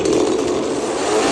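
A chainsaw roars in the horror film Stagefright, a loud, harsh, continuous buzzing with no letup.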